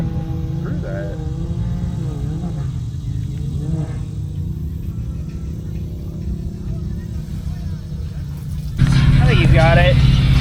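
An off-road vehicle at an off-road park labors uphill with a steady low engine drone that swells louder near the end, while people talk and shout over it.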